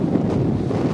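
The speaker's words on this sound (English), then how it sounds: "It's windy." Wind gusts across a seaside boardwalk at Seaside Heights, buffeting the microphone with a loud, continuous low roar and rumble, with no voices.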